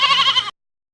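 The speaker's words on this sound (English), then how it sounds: "A lamb bleats." A farm lamb gives a single loud, wavering bleat lasting about half a second, heard close and alone before cutting off to silence.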